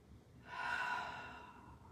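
A single deep breath, faint and close, rising into a soft airy inhale and easing away into a gentle exhale, during a beginner's yoga class.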